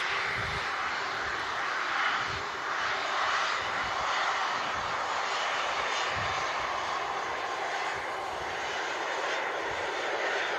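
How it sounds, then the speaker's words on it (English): A Boeing 787-10 airliner touches down on the southern runway at Manchester Airport, its engines making a steady, broad rumbling roar heard from a distance that holds level throughout. "Should just see that now, touching down the 787-10."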